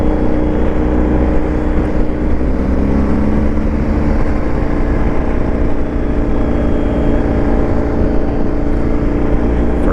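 A BMW R 1250 GS Adventure motorcycle from 2023, running in Dynamic Pro mode, gives off a loud, steady, close engine drone with a constant hum throughout, and no clearly separate throttle blips.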